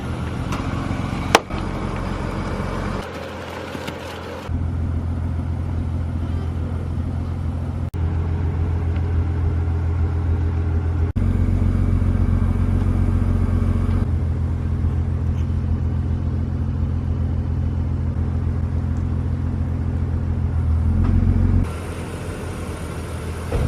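BMW E36 engine running steadily at close range, a loud continuous low rumble with a brief idle dip early on, then a sustained heavier drone lasting over twenty seconds with no talk.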